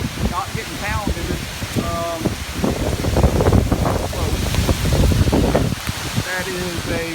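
Strong wind gusts during Hurricane Matthew roar loud and broadband against the microphone near storm-lashed trees and a dock, rising and falling in waves, with a voice talking over them at the start and end.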